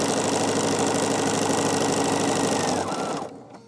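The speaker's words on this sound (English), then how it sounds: "I'm just going to backstitch one just to get back onto the fabric of the block there" A sewing machine stitches through a quilt block in a fast, steady mechanical whir, backstitching briefly before slowing and stopping near the end.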